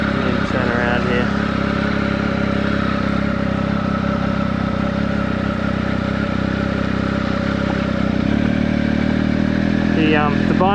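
A 2019 Triumph Speed Triple RS 1000cc motorcycle on the road, its engine giving a steady, loud drone under constant wind rush for the whole stretch, with a brief rise in revs near the end.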